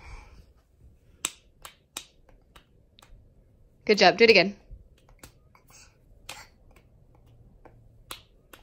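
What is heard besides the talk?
toddler clapping a rhythm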